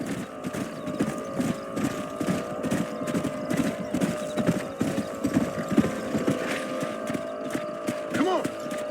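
Horses' hooves clip-clop in a steady rhythm nearby in the video game Red Dead Redemption, with creaking and rattling mechanisms and a brief whinny near the end, under some voices.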